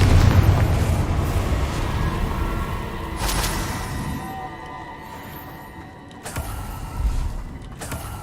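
Confringo spell explosion from Hogwarts Legacy, a booming blast at the start decaying into a rumbling tail, followed by a few sharper thumps and impacts later, with no voices.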